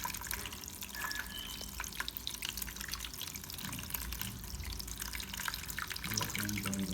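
Water trickles and drips steadily as it drains out of a Samsung washing machine whose spin cycle is not working, a soft continuous flow heard close up with no talking.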